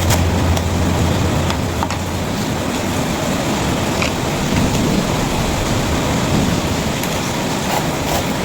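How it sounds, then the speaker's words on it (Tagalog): Heavy rain falls in a dense, unbroken roar, loud and steady throughout with no pauses, filling the whole scene close around. "Baka malakas po ang ulan."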